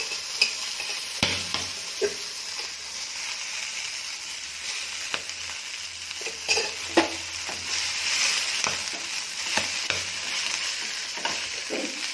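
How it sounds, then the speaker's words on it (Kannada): Red chillies fry and splutter in hot oil for a red chilli chutney, a continuous close sizzle dotted with sharp pops and crackles, with no voices. "ಮೆಣಸಿನ್ಕಾಯಿ ನೋಡ್ರಿ ಸಿಡಿಯತ್ತಾವೆ"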